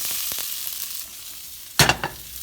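Zucchini and squash hit a hot pan of ground turkey with a sudden loud sizzle, one sharp burst followed by a smaller crackle after a quieter stretch of soft frying.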